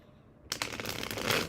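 Tarot cards being shuffled by hand, a quiet pause giving way to a dense run of riffling, flapping card noise that continues close and steady to the end.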